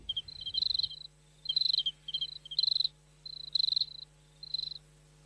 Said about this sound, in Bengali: কেবল ঝিঁঝি ডাকছে, আর কোথাও কোনো শব্দ নেই